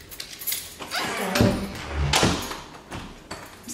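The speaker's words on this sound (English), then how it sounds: "I'm just gonna lock my room." A bedroom door swings shut and is locked, giving a few close knocks and latch clicks over about four seconds with no talking.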